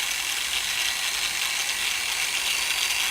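A variable speed grinder runs in a steady, dense, hissing whir throughout, close and continuous with no voices, its speed creeping up as the dial is turned.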